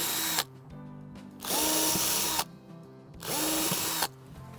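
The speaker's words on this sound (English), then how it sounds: "I'm just going to drill them a bit straighter" Cordless drill boring holes for gutter brackets on a flat roof, three separate bursts of whirring with short pauses between, close and loud with no talking.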